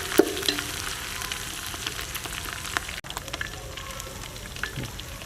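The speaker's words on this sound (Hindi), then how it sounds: "अदरक और लहसुन के पेस्ट को मैंने थोड़ी देर भून लिया है।" Ginger garlic paste fries in a pan with a continuous close crackling sizzle, broken by occasional light taps and one sharp clink, and no one speaking.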